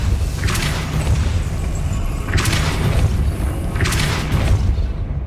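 Three deep booming blasts with a hissing burst on top, evenly spaced over a rumbling low background, from repeated Depulso spell casts in the Hogwarts Legacy game on PS5.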